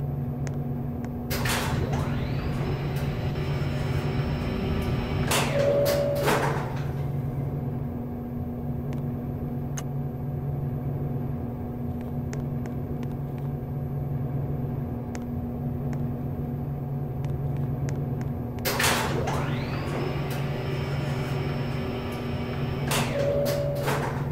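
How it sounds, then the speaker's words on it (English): An Otis elevator door slides with a mechanical rumble and clunk. The motion is heard twice, about twenty seconds apart, each paired with a short chime over a steady low hum inside the car. "Please stand clear of the closing door."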